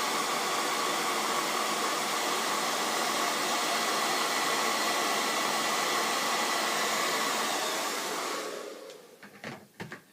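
A hair dryer blows steadily on gray and black hair while styling a pixie cut unit, giving a loud constant airy roar for about eight seconds before it switches off, leaving a few soft handling sounds.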